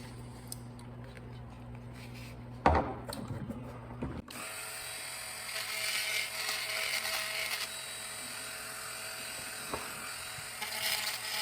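A power drill whines steadily while widening holes in wood, a sustained high buzzing that starts after a few soft knocks and runs on for several seconds at moderate level.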